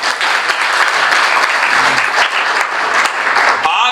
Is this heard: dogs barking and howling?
no